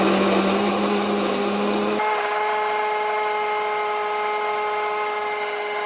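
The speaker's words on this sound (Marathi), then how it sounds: "तर आता मी मिक्सर लावून घेतोय." A kitchen mixer grinder grinds a dry egg sukka paste with no water added, a loud, steady motorised whine running throughout that shifts pitch about two seconds in.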